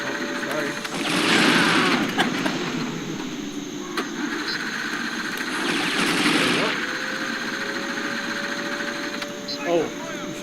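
Rapid automatic gunfire from the on-rail section of the video game 007 Nightfire, coming in two sustained bursts over steady engine-like rumble, with a voice talking over it.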